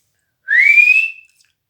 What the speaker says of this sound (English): The ref blew a long blast on his whistle and pointed for a penalty.